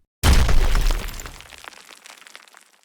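Glass pane shattering as a sound effect: a sudden loud crash followed by a long tinkling spray of falling shards that fades out over about two seconds.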